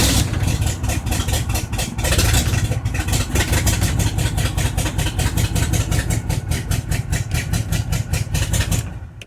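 Square-body Chevy 4x4 wrecker engine running steadily at idle, a loud close rumble with a rapid rhythmic pulse throughout and slight revving, with no voices.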